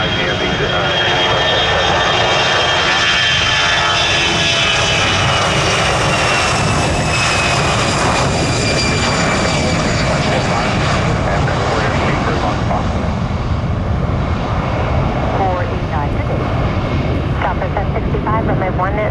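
A jet airliner takes off at Orlando International Airport, a loud, broad engine roar that holds steady for about nineteen seconds, with a rising whine and tower radio chatter underneath.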